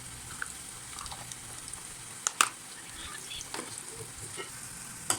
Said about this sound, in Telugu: ఫ్రై చేసుకోవాలి ఆనియన్స్ ఫ్రై అయ్యాక